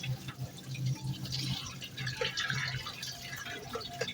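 Water poured off cooked, cooled greens into a sink or container, a close trickling and dripping splash that comes in uneven spurts, with no talking.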